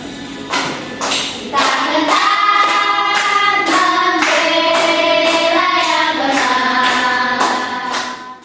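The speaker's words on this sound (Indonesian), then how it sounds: "Tepuk tangan." A school class claps in a fast, steady rhythm while voices chant along. It is loud and close.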